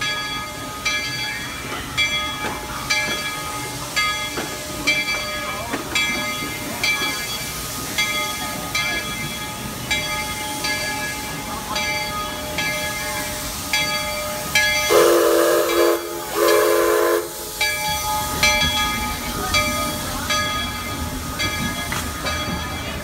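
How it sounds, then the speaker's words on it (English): Loud, steady hiss of escaping steam from a steam locomotive at Knott's Berry Farm's Ghost Town, with a brief burst of harsher noise midway, continuous over a rumbling rail-yard background. "they have a real steam engine that you can take. Check out the steam."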